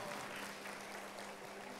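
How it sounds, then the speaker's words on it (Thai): Brief, faint audience applause at an awards ceremony for businesspeople on stage, a soft, distant patter of many hands with a low hum underneath. "ขอเสียงปรบมือดังๆด้วยนะครับผม"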